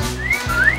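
Men wolf whistling at swimsuit models during a beach photo shoot: two rising whistle glides, loud and close, standing alone over low background hum.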